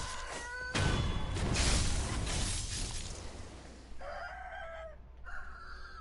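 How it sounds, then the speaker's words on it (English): Chickens in the video game Sekiro cluck and crow loudly, with a broad squawking burst early on and clear, repeated crowing calls near the end, with no talking. "you just don't want the chickens beating you up either"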